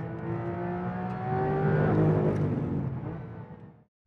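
A Porsche 992 GT3 accelerates hard on the Red Bull Ring race track, its engine rising steadily in pitch and loudness from close by, then cutting off abruptly at the end.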